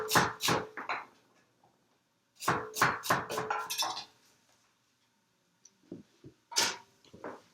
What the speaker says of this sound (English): I'll simply cut the vegetables into little pieces and throw them into the soup stock